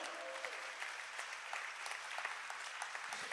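A church congregation claps steadily throughout, a dense patter of applause heard from a moderate distance with no talking.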